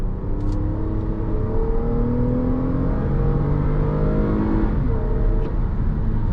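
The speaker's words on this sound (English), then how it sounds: "Try giving it a little bit of gas here." A 2021 Toyota Highlander XSE AWD accelerates under throttle, heard from inside as a steady, smooth engine drone that climbs gradually in pitch over several seconds.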